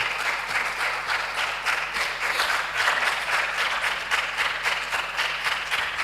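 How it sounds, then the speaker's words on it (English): A crowd applauds steadily at a tertiary-level business competition, a dense, even roll of many hands clapping at once that keeps going without a break from start to finish. "Please continue with the clap. Let it continue."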